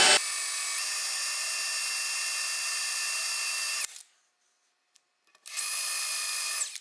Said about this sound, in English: Now the resin, you can drill resin. It is very hard.